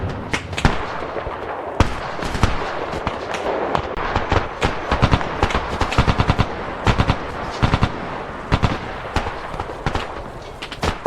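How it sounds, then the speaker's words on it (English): Intense gunfire in Arma Reforger, shots ringing out from surrounding hillsides in a Chechnya-style battle: loud, crisp cracks and rapid bursts come in dense irregular clusters throughout, some close and sharp, others slightly distant, with no talking. "shots began to ring out from the surrounding hillsides"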